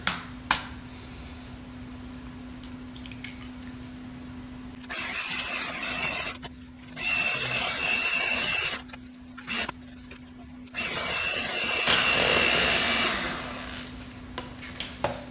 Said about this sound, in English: eggs going in 1 at a time. Mix, another egg, mix